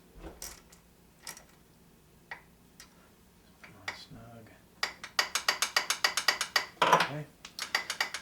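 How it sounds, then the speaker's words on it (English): Bolt being tightened on an MGA/MGB three-synchro gearbox during assembly, heard as a quick run of sharp ratchet clicks in the second half, with a few scattered mechanical taps before it. "Tighten the bolt on there."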